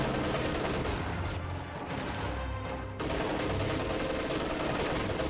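Rifle gunfire in the strategy game Company of Heroes 2, with dense, continuous crackling volleys and battle noise filling the whole stretch at steady loudness, no talk over it.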